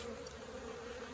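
A cluster of honey bees drones inside an opened hive box in a bee yard, an even, unbroken buzz heard up close and alone.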